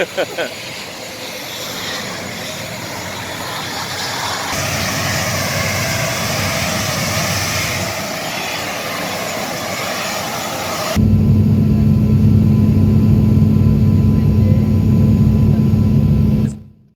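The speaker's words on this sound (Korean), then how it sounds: "비행기를 타고 저렇게 이동을 했어요" An airplane flying to Wamena drones steadily, with a broad engine roar throughout that grows louder and deeper in the final seconds before cutting off abruptly.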